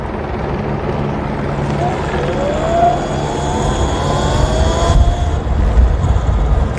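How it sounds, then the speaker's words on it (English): A helicopter drones steadily overhead on a Los Angeles street during a curfew, a low rumbling thrum mixed with distant traffic, fairly loud and continuous throughout. "All I hear is helicopter right now."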